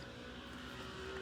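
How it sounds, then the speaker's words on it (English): Faint road traffic from a road right next to a house, heard through a shut window as a low, steady rumble of passing cars with no breaks. "Sorry about the traffic noise."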